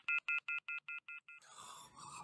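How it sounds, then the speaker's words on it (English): A phone emits a rapid run of seven evenly spaced dial tones, then breaks into a harsh, screeching modem-like burst of 1990s dial-up noise, close and fairly faint. "the phone just made one of those weird 90s internet sounds"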